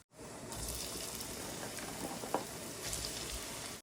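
Cooking oil heating in a pan for kabab mince gives off a steady, soft crackle and hiss throughout, fairly quiet, with a brief louder pop near the middle and no voices.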